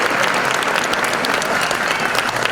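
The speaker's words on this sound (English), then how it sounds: "Let's give yourselves a round of applause." Audience applause fills a pageant hall after donations to Children's Miracle Network are announced, dense steady clapping at close range holding level throughout with no break.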